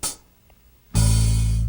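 A deep bass guitar note, plucked with alternating fingers, rings out loud and sustained after a brief, quiet pause following a short opening attack.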